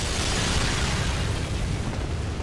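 Explosion in the video game Bloodborne, a dense, loud rumbling blast sustained from start to finish with no break.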